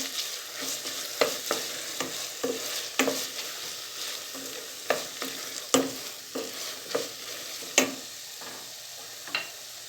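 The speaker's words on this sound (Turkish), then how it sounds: "Hemen şöyle salçamızı da 1-2 dakika kavuralım." Tomato and pepper paste fries in a pan for a tarhana soup, a steady low sizzle broken by regular scraping strokes of a spoon stirring it close up.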